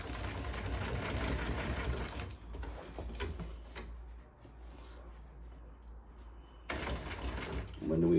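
A sewing machine stitches upholstery fabric for a rock and roll sofa bed, running in a loud close burst, stopping for a quieter stretch of handling noise, then starting again.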